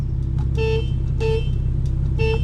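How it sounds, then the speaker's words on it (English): A Hyundai Genesis Coupe's horn honks three times in short bursts, a thin, nasal tone over a steady low engine idle, loud and close. "it is the worst sounding horn on any car I've ever heard"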